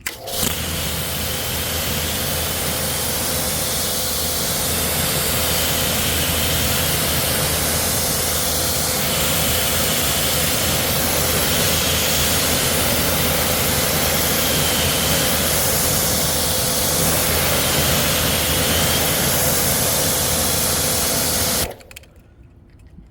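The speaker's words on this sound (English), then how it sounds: "Hit it with the pressure washer." A pressure washer sprays a 2016 Mercedes-Benz AMG E63s with a continuous loud, broad hiss that lasts about twenty seconds and then cuts off abruptly.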